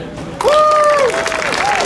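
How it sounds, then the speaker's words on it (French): An audience applauds at a Bas-Léon gavotte dance competition in Landerneau, with a burst of clapping and a bright whistle or cheer rising over it, then the clapping carries on steadily to the end. "On peut l'applaudir."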